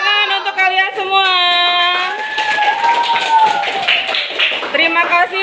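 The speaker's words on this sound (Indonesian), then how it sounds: "tepuk tangan untuk kalian semua" Classroom students clapping together after a group presentation, a steady broadband patter of many hands through the middle seconds, with a teacher's voice and children's voices over and around it.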